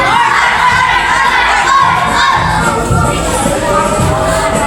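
A group of scouts shouting their group names together at a scouting formation, loud and close, with crowd noise and cheering throughout.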